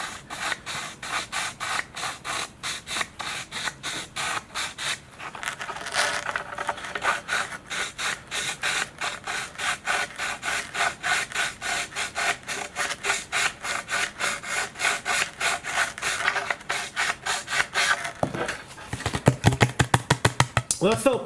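A file rasps inside the wing joiner box of a Samba Prestige F5J V-tail glider, in rapid, steady back-and-forth strokes heard close up, with a short pause partway through.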